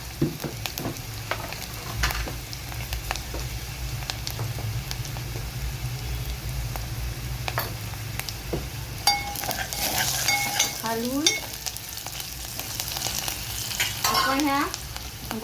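Onion frying in a pan with asafoetida and turmeric for sambar, a steady loud sizzle throughout with occasional scrapes and clinks of a spoon stirring, no talking.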